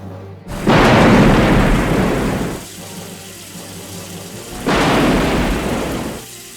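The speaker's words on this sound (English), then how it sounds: "a big rainstorm was raging across the coast" Heavy coastal rainstorm with rolling thunder, two long loud broadband rumbles of crashing downpour and thunder swelling and fading in turn, with a quieter rain hiss between them.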